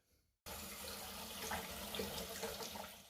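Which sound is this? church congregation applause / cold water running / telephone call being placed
cold water running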